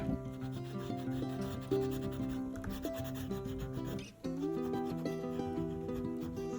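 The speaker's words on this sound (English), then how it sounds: "I'll make a pink octopus with my wax crayons" Pink wax crayon rubbed across paper, a continuous close scratchy scrubbing in short repeated strokes, with steady background music throughout.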